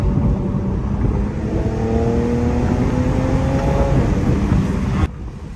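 A tuned all-wheel-drive Infiniti Q50S with about 450 horsepower pulls hard in third gear from 50 to 70 mph. Heard from inside the car, the engine drone and rising whine build steadily, then cut off abruptly near the end.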